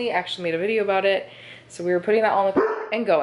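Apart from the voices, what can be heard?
dog barking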